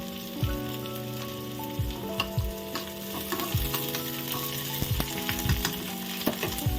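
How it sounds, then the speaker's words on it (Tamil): Onion and curry leaves sizzle steadily in hot oil in a pan, with repeated scraping stirs of a spoon against the metal cutting through the frying, close and clear with no talking. "கொஞ்சம் ஒரு வெங்காயம் நல்லா ஒன்று மிக்ஸ் செய்து கொடுக்கலாம் கொஞ்சோண்டு கறிவேப்பிலை போட்டு கொடுக்கேன்"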